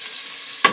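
Curd frying in ghee, with a faint low background hum giving way near the end to two short, bright bursts of sizzling spatter, close and loud.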